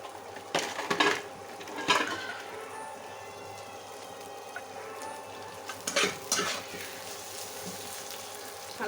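Eggplant frying in oil in a home kitchen, with a few sharp clinks and scrapes of a utensil stirring against the pan over a low, steady sizzle.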